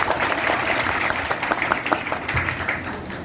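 An audience at a business seminar bursts into applause, a dense, loud crowd clapping that carries on steadily with a few individual claps popping out.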